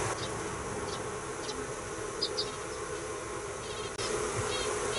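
Honeybees buzz steadily through a hive inspection during a swarm split, a dense continuous hum with a few brief higher whines from individual bees flying close, no voices over it.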